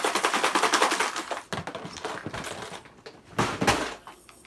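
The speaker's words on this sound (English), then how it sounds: "See, you can just hear hooks rattling." Small metal fishing hooks and hard baits rattle inside a plastic tackle box, a dense run of quick clicking taps near the mic, then scattered clatters and a second brief burst of rattling.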